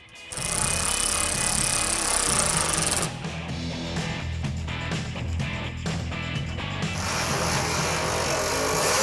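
A ratchet tightens fender bolts on a rare car in a rapid mechanical clicking run, loud and close, with a short pause before further bursts of ratcheting.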